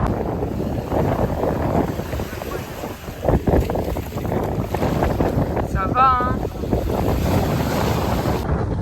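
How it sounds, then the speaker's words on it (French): Steady wind buffets the microphone with a low, rumbling roar throughout, over distant surf on a Sardinian beach, with a brief spoken exchange near the middle. "Il y a un peu de vent quand même."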